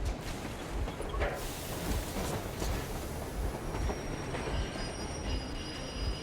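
Moving train in the video game Metro Exodus: steady rolling rumble with clickety-clack wheel rhythm and occasional metallic squeal, continuous and fairly close throughout, with no talking.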